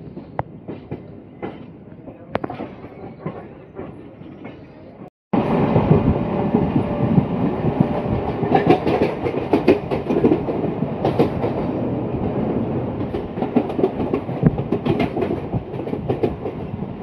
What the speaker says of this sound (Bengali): আজিমগঞ্জগামী প্যাসেঞ্জার স্পেশাল ট্রেন।